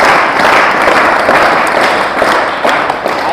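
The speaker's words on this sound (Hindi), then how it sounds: "आर्यवीर जी का भी स्वागत जो है तालियों से हो।" An audience at an Arya Samaj gurukul gathering in Hyderabad applauds to welcome a performer, a steady wash of clapping that holds at an even, fairly loud level throughout.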